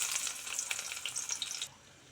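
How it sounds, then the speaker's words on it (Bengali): Chopped onions sizzle loudly in mustard oil in a wok, a dense close frying hiss with small crackles that cuts off sharply after under two seconds. "আমি পেঁয়াজ কুচিগুলো ভালো করে লাল লাল করে ভেজে নেব"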